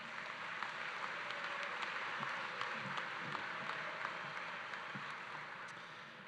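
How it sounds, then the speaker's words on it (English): Steady, even applause from a graduation ceremony audience in a gym with bleachers, honoring the honor guards; a dense wash of many hands clapping at a distance, holding level for several seconds with no voices over it. "Please give them a round of applause."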